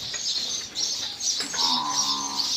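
Cows and water buffalo lowing nearby in a muddy shed, a drawn-out moo rising over a steady bed of high chirping birds and outdoor ambience.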